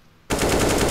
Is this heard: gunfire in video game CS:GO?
yes